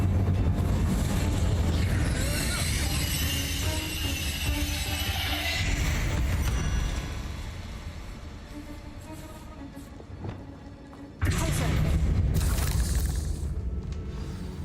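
An Incendio fire spell is cast in Hogwarts Legacy: a loud roaring burst over a rumbling, whooshing background, which drops away before a sharp new blast erupts near the end.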